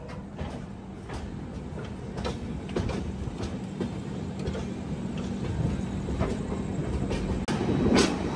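A Humsafar Express rolls into Visakhapatnam Junction, a moderately loud rumble with repeated clickety-clack of wheels over rail joints, growing slightly louder toward the end.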